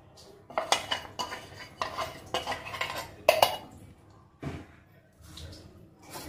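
A spoon scrapes and clinks against a bowl as salt is stirred into roasted chickpea flour, giving irregular close scraping strokes with sharp metallic taps and short pauses.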